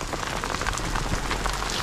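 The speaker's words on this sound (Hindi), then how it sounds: "बारिश ही हो गई है मौसम बिल्कुल ठंडा हो गया" Heavy rain with hail pounding down on a mountain road in the hills during a motorbike trip, a dense, loud, continuous patter of drops striking surfaces nearby, with no talking.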